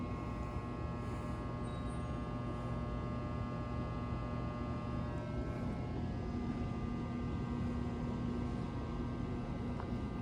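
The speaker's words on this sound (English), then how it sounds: "These elevators are so fast, but it's very inefficient back before now." A steady low mechanical hum with a faint whine from a running Otis high-speed elevator at a Sheraton hotel in Niagara Falls, Ontario, even and continuous throughout with no voices.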